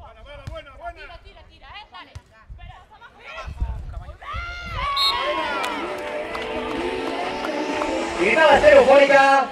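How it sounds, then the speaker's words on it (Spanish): Spectators at a women's beach volleyball final in Valladolid in 2013 shout and cheer after a stretch of scattered calls. The crowd noise swells into a loud, sustained roar that peaks at the end. "Gritada estereofónica, buen detalle."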